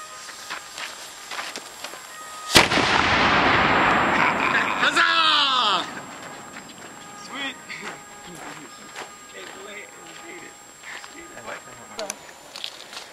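A cannon at a summer camp fires once with a sudden, loud boom, followed by a long rumbling roar and echo that fades over a few seconds while people talk and shout nearby.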